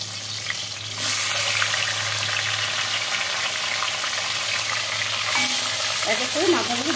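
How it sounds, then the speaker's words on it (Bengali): Fish heads fry in hot oil with a loud, steady sizzle that swells as more pieces go in, alongside some faint clinks of utensils. "তেলটা এবার আমি দিয়ে দেবো মাছের মাথাগুলো।"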